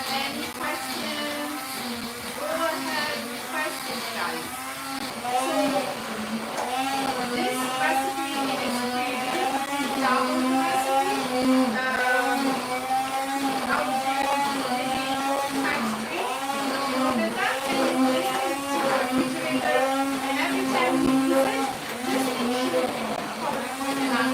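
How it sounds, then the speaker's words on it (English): A blender whirs through a batch of pesto, its motor droning steadily with rhythmic pulsing surges across the whole stretch, and a voice talks faintly underneath. "especially if you have this kind of blender"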